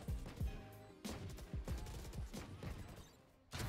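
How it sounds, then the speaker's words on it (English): Gunfire in a first-person shooter video game, with two sharp shots standing out among a dense run of rapid, loud bursts and impacts across the short stretch. "two shots, two kills"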